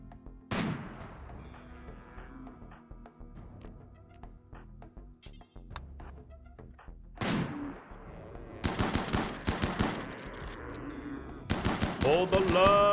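Colonists in RimWorld fire their guns in rapid bursts, with sparse shots early and dense, loud volleys in the second half, plus a rising tone near the end, while a voice talks over the action.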